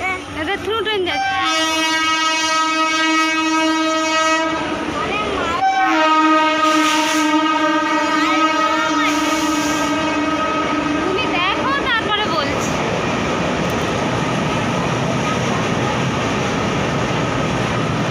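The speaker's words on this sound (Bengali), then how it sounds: "এদের থ্রু ট্রেন যাচ্ছে।" A through train passes close by, sounding a long, loud horn in several sustained blasts over rumbling wheels and carriages. Voices are faintly audible in the background.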